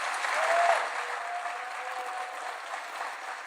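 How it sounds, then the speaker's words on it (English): A large audience at the Africa Forward Summit keeps up a loud, even round of applause for the two co-hosting presidents, with no break in the clapping. "President Ruto and President Macron a warm round of applause"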